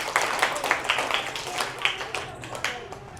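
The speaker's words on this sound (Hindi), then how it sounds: "बहुत बहुत तालियां बच्चों के लिए" A small audience claps for children at a myopia awareness event, with distinct, somewhat uneven individual claps in a loose rhythm over a murmuring room, fairly close and brief.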